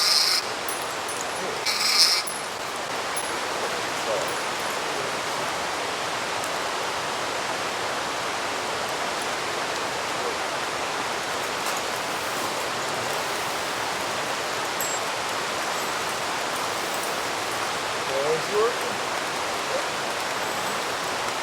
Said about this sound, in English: the sound of the water and the pitter patter of the rain